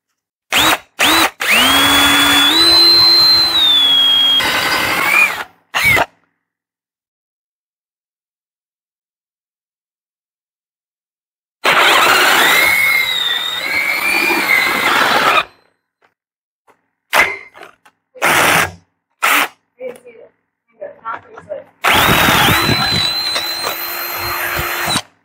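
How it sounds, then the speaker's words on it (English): A power drill whines loudly in three long bursts, its pitch dipping and rising as it bites into metal on a Ford 9-inch rear end, with short clicks and silences between. "let's just start drilling because I'm getting too nervous thinking about it."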